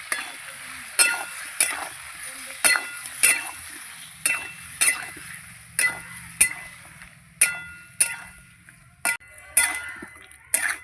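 Spices with turmeric and salt being stir-fried with raw banana and kohlrabi in a pan: a faint sizzle under a regular run of close, sharp spatula scrapes and knocks, about one each second.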